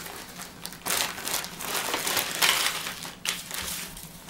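Small plastic packet from a bushcraft first-aid kit crinkled and rustled open by hand, a few close crackling bursts in uneven rhythm with no talk.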